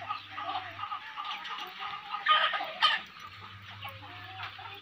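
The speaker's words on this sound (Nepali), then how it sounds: "यो चाहिँ सबै बस्तीको कुखुरा हो यिनीहरू चाहिँ चारो खाँदैछ" Village chickens feed together outdoors, clucking in soft, irregular bursts close to the microphone with a low hum underneath, no talking.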